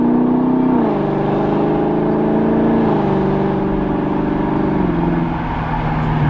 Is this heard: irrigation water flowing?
no